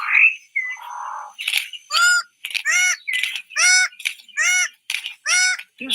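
A male six-plumed bird of paradise gives a rapid series of harsh, nasal, honking calls in forest during its courtship display, with about eight strong repeated notes and some shorter squeaky ones, loud and close.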